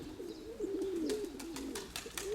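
A female pigeon coos in one soft, warbling, rolling call that rises and falls over a couple of seconds, fairly faint, with a few light clicks and rustles around it.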